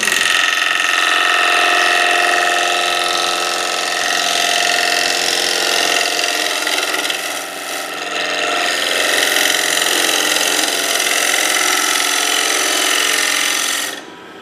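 A wood lathe spins while a winged bowl is turned, giving a loud, steady motor whine with a bright tonal drone, dipping briefly midway before resuming and cutting off abruptly at the end.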